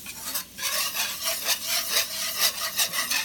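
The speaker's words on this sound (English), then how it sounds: "we're just going to start stirring this with a whisk" A whisk stirring fat and flour together in a pan for gravy, producing rhythmic scraping and rubbing strokes that repeat steadily and close up, with no voices.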